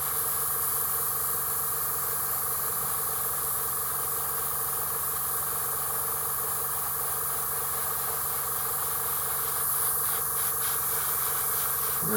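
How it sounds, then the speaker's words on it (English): A steady, continuous airbrush hiss runs unbroken at a constant level, spraying a wash onto Warhammer miniatures such as thermic plasma regulators, close and alone with no talk. "I'm going to use an airbrush for a wash."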